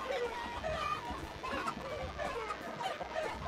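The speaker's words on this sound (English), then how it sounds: "Gaze upon the chickens." Chickens cluck in the battle game TABS, a busy, continuous flock of short clucks and squawks that overlap and fill the scene, close and steady.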